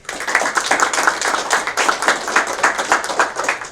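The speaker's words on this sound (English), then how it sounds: "Ladies and gentlemen, round of applause for Mr. Barrick." Audience applause for a speaker at an innovation summit, a dense burst of clapping from a room full of people, close and steady for a few seconds with slight swells.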